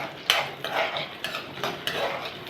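Chutney ingredients are dry-roasted in a pan while a spoon stirs and scrapes at them, giving soft, irregular scraping strokes and light clinks over a faint background, close but quiet.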